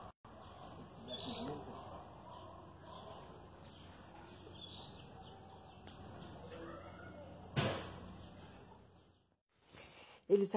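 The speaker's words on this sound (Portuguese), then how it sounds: "Eles acabaram descendo no telhado para comer o milho. Esses pássaros chamados jacu" Jacu birds on a rooftop eating scattered corn, with soft coos and chirps over steady background ambience and a sharp knock near the end.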